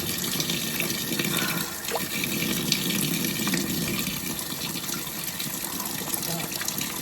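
Clothes washed by hand with a bar of soap under running water at a pilgrims' stop on the Camino: a continuous close gush of water with splashing throughout.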